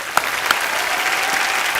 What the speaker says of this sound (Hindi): इसके लिए जोरदार तालियां बनती हैं